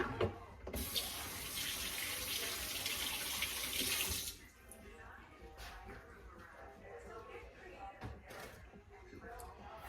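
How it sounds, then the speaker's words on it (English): Hands rinsed under a running kitchen tap while making a baked ham, a loud gushing stream for about four seconds that cuts off, followed by quieter drips, handling clatter and some talk. "let me rinse my hands."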